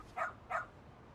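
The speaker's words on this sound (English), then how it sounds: "Aw, what a cute doggy." A dog in the Lost Judgment video game gives two short, moderately loud barks in quick succession, alone against a quiet background.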